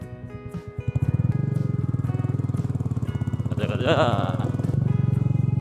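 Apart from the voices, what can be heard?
Royal Enfield Meteor classic motorcycle engine on off-road climb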